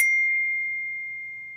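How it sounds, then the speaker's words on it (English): A single bright electronic ding notification chime rings out clearly, its pure tone sustaining and slowly fading over about a second and a half, with no voices. "I love that ding."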